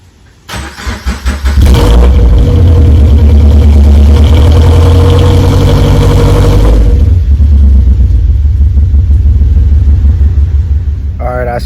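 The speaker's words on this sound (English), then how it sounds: "I get a good cold start, that's how I know if it's sounding good." A 2013 Scion FR-S engine cold-starts with a brief crank, then roars up to a loud high idle that holds steady before easing slightly lower, close to the car, with a voice talking over it.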